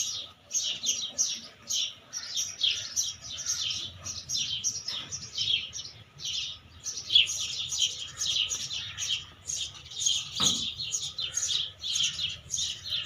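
Many small birds, sparrows, chirp and twitter continuously while bathing, in quick, overlapping bursts, fairly close, with a low rumbling background underneath.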